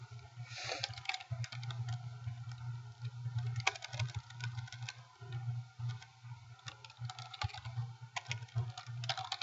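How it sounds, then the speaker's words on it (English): Rapid, clacky keystrokes on a loud computer keyboard patter continuously with irregular rhythm, close up, over a steady low electrical hum. "I know it just had to be the noisy keyboard, didn't it?"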